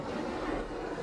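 A steady engine roar mixed with rushing wind and water, constant and loud as a Hanko 3096CV motorboat runs at 5,000 RPM and 36 miles an hour.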